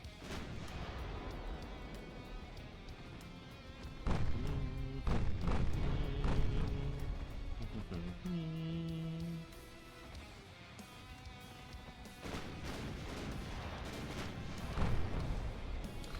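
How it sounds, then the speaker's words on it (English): Battleship secondary guns fire in Ultimate Admiral Dreadnoughts, a steady run of booming naval gunfire with heavier clustered salvos near the start and again toward the end, loud and continuous with no voices. "the battleship secondaries are starting to hit"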